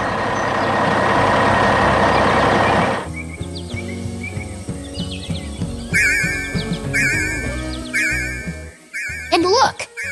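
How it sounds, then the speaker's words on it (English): A fully loaded dump truck rolls out from a beach house construction site, its engine a loud, heavy rumble for about three seconds before it gives way to chirps and beeps. "The truck is full and rolling out."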